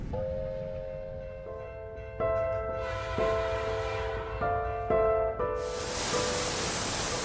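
A 2-10-0 freight steam locomotive, a German-built engine regauged for Russian track, rumbles along while its horn sounds in sustained, shifting chords, swelling louder before a burst of broadband hiss near the end.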